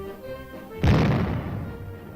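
A land mine exploded by student sappers during engineer training lets out a sudden loud, deep blast that rolls and rumbles away for over a second.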